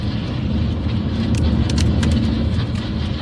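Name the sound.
car driving away after dragging a motorbike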